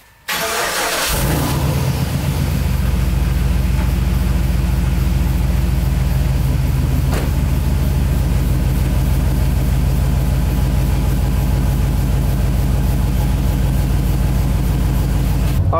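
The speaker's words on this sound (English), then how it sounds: "the truck didn't take a while to turn on, that's a good thing" A truck engine, an SS clone, cranks and starts in cold weather, then settles into a loud, steady, close idle with a deep rumble that runs throughout, with no talk.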